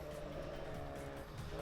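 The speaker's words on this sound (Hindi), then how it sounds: "स्टॉक कैटेगरी और बड़ी जोरदार आवाज के साथ स्टार्टिंग लाइन से अपनी रेस का आगाज किया है" A stock category rally car at an autocross event launches from the starting line, its engine roaring loud and steady throughout with a dense, sustained growl and no pause.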